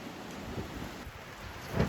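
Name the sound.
pouring rain and hail on a cabin roof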